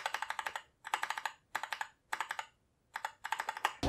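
Typing on a Cooler Master CK552 RGB mechanical keyboard with Gateron Red switches: six short bursts of rapid, crisp key clacks, close and clear, separated by brief pauses.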